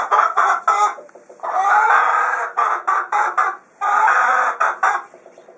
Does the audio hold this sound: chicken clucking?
yes